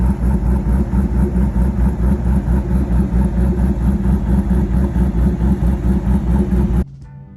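Twin turbo 1,000 hp Corvette idling, a loud, close, lumpy engine rumble with a steady pulsing rhythm that cuts off abruptly near the end.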